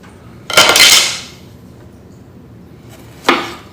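A knife slices jalapeño peppers in half while bacon-wrapped barbecue poppers are being prepared: two crisp cuts close up, the first longer and louder, the second short and sharp, with no talking.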